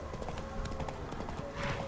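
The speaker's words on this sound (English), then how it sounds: "Time to jump on this horse." Horse hooves clip-clop in The Witcher 3: Wild Hunt, a steady trotting rhythm of quick, light hoofbeats on the ground, fairly faint and close, with faint game ambience around it.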